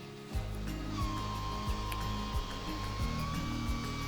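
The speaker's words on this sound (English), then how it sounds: "This operates our ceiling fan" A remote-controlled ceiling fan that can pull air in or push it out runs close by with a loud, steady motor whir and low droning hum. The hum dips and shifts pitch every second or so over a thin high whine, with no voices.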